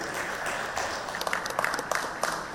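Audience applause at the Bengal Pro T20 draft ceremony, a steady wash of clapping from a crowd with a few sharper individual claps standing out near the end.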